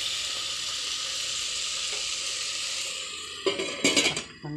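Chicken liver sizzles in hot oil in a pot for chicken tinola, a steady close frying hiss that ends in a few loud clattering stirs and pan knocks.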